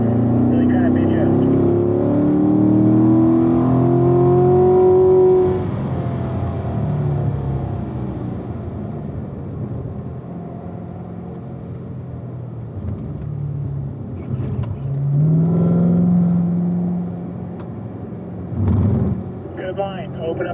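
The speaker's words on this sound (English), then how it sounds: "Open up the throttle now, nice and smooth." A Corvette engine revs up on a race track during a driving school session, a loud rising engine note that eases off, then climbs again, with wind rush and an instructor talking over it.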